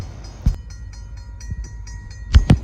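A St. Lawrence and Atlantic freight train sits stopped at the Locke Mills Main Street crossing in Maine, with a steady mechanical hum and a few heavy clanks and thumps close by.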